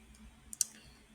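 A computer mouse gives two quick, light clicks close by, just apart, against a quiet background during a Git setup on Windows 11.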